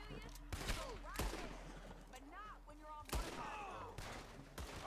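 Gunfire in Red Dead Redemption 2, a western video game: repeated sharp shots burst out at irregular moments over a steady game soundscape, with overlapping volleys and a chaotic fusillade feel, while voices speak now and then.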